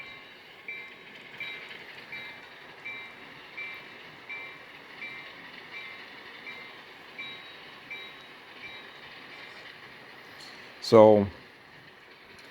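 A Walthers model railroad transfer table runs through calibration with a steady, faint mechanical whir and soft rhythmic pulses, then a sudden loud clunk near the end; a voice speaks briefly.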